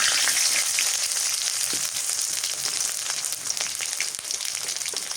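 Bay leaf, whole spices and chopped onion crackle in hot mustard oil in a pan, a loud, steady close sizzle with scattered pops throughout, no voices.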